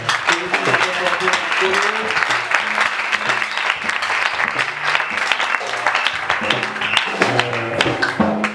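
A church congregation claps steadily and loudly throughout, with musical tones and voices carrying beneath the applause.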